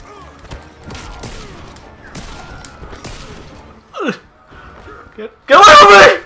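Gunfire in the fighting video game Injustice 2 in a Hellboy match, heard as a loud burst near the end after excited voices talking and exclaiming over quieter game sounds.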